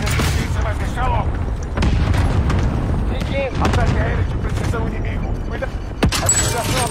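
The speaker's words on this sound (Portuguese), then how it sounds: "Ataque aéreo de precisão inimigo." Enemy precision airstrike in the Warzone video game: a dense stretch of booming impacts and gunfire, with speech over the explosions throughout.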